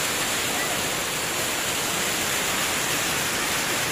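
Water pours down from the top of Kangsabati Dam at Mukutmonipur in Bankura, a loud, dense, unbroken roar that fills the whole stretch without any voices.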